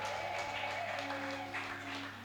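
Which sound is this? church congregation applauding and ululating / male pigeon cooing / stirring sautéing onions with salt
church congregation applauding and ululating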